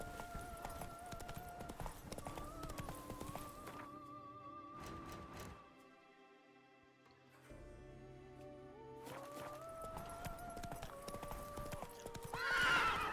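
Steady clip-clop of a horse galloping in a video game, with whinnying over game music; the sound dips briefly midway before the hoofbeats pick up again.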